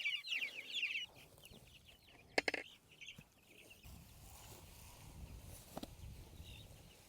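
Chickens in a chicken tractor on pasture, clucking and chirping near and far, with a loud flurry at the start, a few sharp knocks and rustles, then quieter scattered calls over outdoor ambience.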